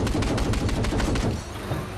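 Gunfire in the video game Battlefield 4 crackles as a rapid, loud burst of automatic shots. The shots ring out in a fast, even rhythm before easing slightly.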